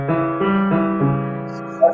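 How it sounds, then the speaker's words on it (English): A piano plays a diminished triad, root, flat third and flat fifth, as a few sustained notes struck in quick succession and ringing together, close and clear, with a brief soft sound at the end. "So could you just play again, Erik, the diminished triad, the 1 flat 3 flat 5?"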